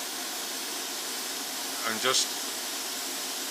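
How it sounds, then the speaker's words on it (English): An airbrush sprays thinned paint onto a Tamiya 1:35 scale Russian T-55A tank model, giving a steady, even hiss throughout, with a few words spoken briefly near the middle. "That's showing me that's thin enough, it's spraying nice, I've got the right pressure."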